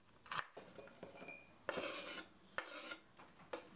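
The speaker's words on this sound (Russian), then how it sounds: "Чеснок очистим и мелко нашинкуем." Garlic cloves are peeled and finely chopped, giving close, quiet scraping and rubbing of papery skins punctuated by a few sharp knife knocks on a board.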